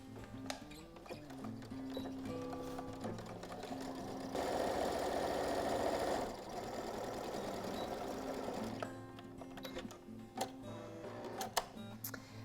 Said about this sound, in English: this time we're only going to sew down the sides